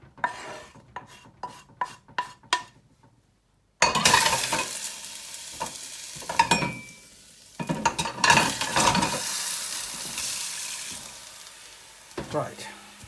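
A spice grinder whirs in several short pulses, then runs in longer loud bursts as whole spices are ground into powder for a South African lamb potjie, close and dominant with brief pauses between runs.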